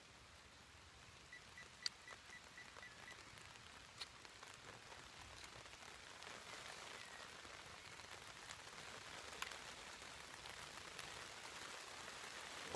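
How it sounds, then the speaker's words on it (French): Light rain begins to fall outdoors, heard as faint, scattered drops tapping on surfaces over a quiet background, with a few sharper ticks now and then. "Alors là il se met à pleuvoir."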